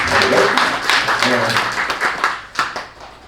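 Church congregation applause welcoming visiting guests, a burst of hand clapping with distinct individual claps and some voices mixed in, thinning toward the end.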